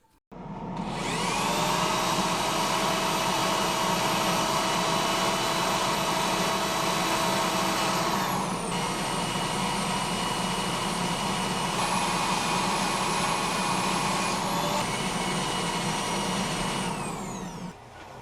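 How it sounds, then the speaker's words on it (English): A power sander with 60-grit paper working a wooden chip and dip platter, a loud, steady high whine that runs continuously for most of the span, with pitch shifts as pressure changes, then winds down at the end. "switched to a power sander, starting with 60 grit"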